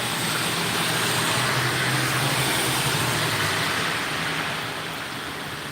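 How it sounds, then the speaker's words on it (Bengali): Heavy rain pours steadily in a hilly area, a dense, loud, unbroken wash of noise that eases slightly toward the end, with no voices. "কঠিন বৃষ্টি হচ্ছে বৃষ্টির সাথে সাথে হচ্ছে ঠান্ডা"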